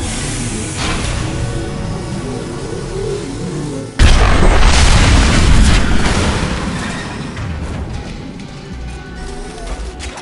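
Fuel tanks blowing up in the video game Mass Effect 2, a sudden loud boom followed by a long rolling rumble that slowly fades.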